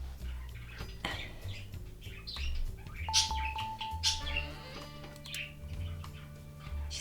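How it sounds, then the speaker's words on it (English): A pet bird named Shirley chirps and squawks in scattered bursts over steady background music and faint clicking, moderately close but not loud. "Don't mind Shirley's squawking."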